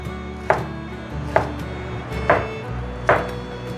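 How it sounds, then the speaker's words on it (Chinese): A knife chops red shimeji mushrooms on a cutting board: four sharp, distinct strikes spaced roughly evenly apart, close and clear over a quiet background. "把红喜菇切碎"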